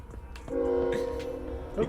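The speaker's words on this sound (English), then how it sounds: "Oh, hello, train." A train passes during a driving video game, a steady horn-like tone holding for over a second at moderate loudness over engine rumble, with a voice briefly around it.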